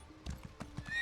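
Video game horse mount from Elder Scrolls Online gives a short neigh over a few clip-clopping hoof steps, quick and fairly close in a brief burst.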